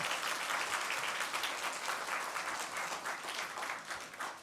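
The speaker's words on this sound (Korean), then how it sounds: "우리 어머니에게 기립박수 해주시기 바랍니다" A church congregation gives a standing ovation, sustained dense applause from a large crowd filling the room evenly and tapering slightly toward the end, with no talking over it.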